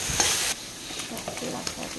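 Eggplant frying with fenugreek leaves in a pan, a steady close sizzle with a sharper burst of stirring near the start, then quieter continuous crackle and small scraping clicks.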